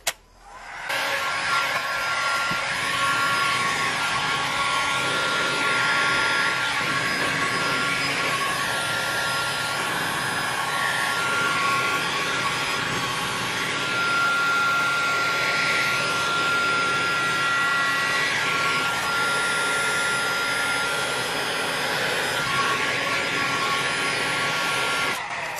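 A heat gun set to 630 degrees blasts steadily while heating PVC pipe over lead pipe, a loud, continuous close-up airy roar with a whining fan tone that holds for about twenty-five seconds, no talking.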